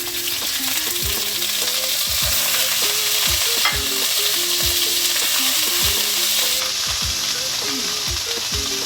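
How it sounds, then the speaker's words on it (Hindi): Ginger paste fries in oil with a loud, steady sizzle, and a spoon scrapes the pan in quick repeated rattling strokes throughout. "थोड़ा सा ऑयल डालेंगे, अदरक का पेस्ट है वो हम डाल देंगे"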